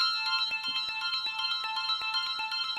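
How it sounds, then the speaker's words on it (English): A bright, bell-like synthetic tone through a delay plugin, repeating in quick, evenly spaced echoes, a steady rhythmic stream of delayed repeats at a constant level. "So again, delays sound like this."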